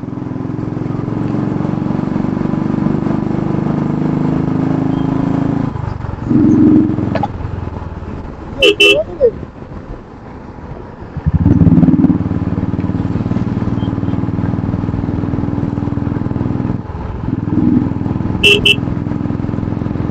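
Motorcycle cruising at an easy pace on a long highway at dawn, a steady close engine drone with wind rush, broken by brief horn honks from passing traffic and a moment where the engine note drops before picking back up.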